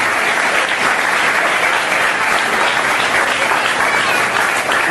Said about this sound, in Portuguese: Uma salva de palmas ao Senhor Jesus.